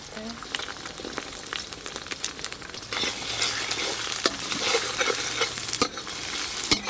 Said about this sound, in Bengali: এবার এই ডিমগুলো ঝুড়ো ঝুড়ো করে ভেজে নেব